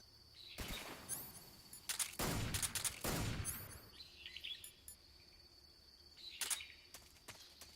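A smoke grenade thrown in Metal Gear Solid 3 gives off a couple of loud, broad hissing bursts. Chirping birds and faint jungle ambience continue quietly before and after.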